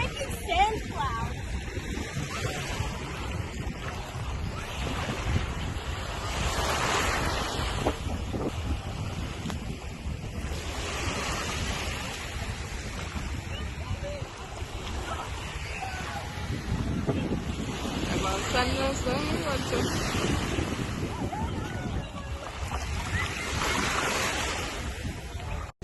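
Ocean waves wash onto a Jamaican beach in a steady, broad roar with gusts of wind noise on the microphone, while voices talk intermittently over the surf.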